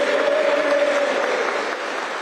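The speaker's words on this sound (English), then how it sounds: "big cheer there for Ben Houchin" A crowd applauds and cheers loudly and continuously for Ben Houchin, elected Conservative mayor of the Tees Valley Combined Authority, at a local election count, with a steady roar that fades slightly toward the end.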